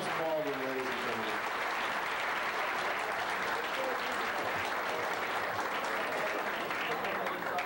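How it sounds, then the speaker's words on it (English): An audience claps steadily for Russ Baldwin at a hall of fame birthday event, a dense, even round of applause that carries on for the whole stretch, with a voice speaking over it at the start. "Nice round of applause for Russ Baldwin, ladies and gentlemen"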